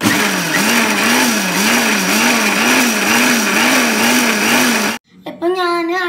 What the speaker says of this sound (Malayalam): ഇനി നമുക്ക് പൾസിലേക്ക് ഇട്ടിട്ട് അടിച്ചെടുക്കാം.